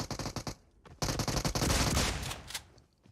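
Bursts of automatic gunfire in PUBG Mobile, a rapid string of sharp close shots, a short pause, then a longer sustained volley that tails off, loud and without talk.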